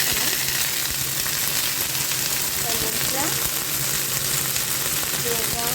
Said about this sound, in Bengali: আদাও দিচ্ছি ফোড়নে। ফোড়নটা গরম হয়ে গেছে